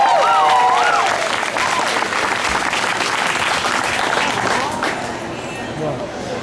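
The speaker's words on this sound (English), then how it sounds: "a round of applause for James" An audience at a music performance applauds for James, loud sustained clapping with a few cheers and whoops that slowly fade out.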